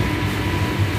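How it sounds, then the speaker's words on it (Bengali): A moving passenger train heard from inside a coach, giving a steady, dense low rumble and rushing noise throughout the brief moment, with no voices. "ট্রেন চলছে তার নিজস্ব গতিতে,"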